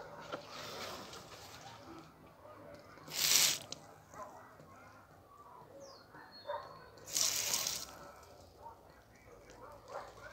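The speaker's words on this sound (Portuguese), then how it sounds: "Vou pegar a mangueira." A garden hose sprays water onto begonia maculata cuttings set in sand in two short, hissing bursts a few seconds apart, over a quiet outdoor background with faint birds.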